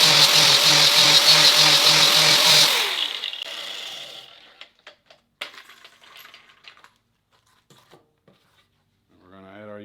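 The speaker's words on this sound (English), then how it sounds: "Switch from our 120 grit to our inner leaf flap wheel." An interleaf flap wheel grinding thin stainless steel gives a loud, steady, whining buzz for about three seconds, then winds down into scattered clicks and quiet, with a voice briefly at the end.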